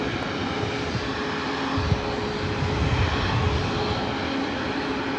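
A Boeing 737 MAX 9 jet at LAX airport gives a loud, steady engine roar and rumble that swells slightly midway and holds through the whole clip with no talk.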